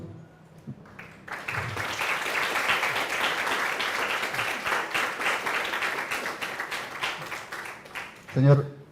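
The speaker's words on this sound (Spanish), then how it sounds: "Para ellos quiero pedir fuertes votos de aplauso" A school audience in Pucallpa, Peru breaks into applause after a brief quiet start, with sustained crowd clapping for about seven seconds, a voice briefly breaking in near the end.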